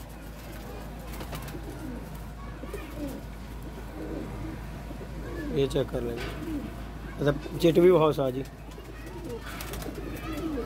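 Pigeons coo softly at a loft where birds are kept, a few low murmuring calls rising near the end, heard under ongoing men's conversation and background noise.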